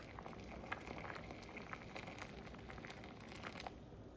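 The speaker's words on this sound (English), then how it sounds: "So we're just gonna boil this until all the peas are tender to touch." Peas boil in water in a pot for a vegetable stew, a quiet, steady bubbling with faint pops and crackles heard close up and alone.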